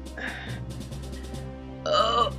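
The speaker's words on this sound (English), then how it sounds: "I'm burping there" Two drawn-out, buzzy burps from one person, the first short and the second louder and rougher near the end, with low background music underneath.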